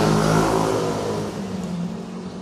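A Food Panda delivery rider's motorcycle passes close by, its engine droning loud at first and then fading away steadily over a couple of seconds.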